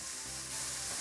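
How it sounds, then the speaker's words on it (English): Onions sweating in a pan for goat curry make a short, dense, even sizzle with a low background hum and no talking. "So as you can see, our onions are starting to sweat."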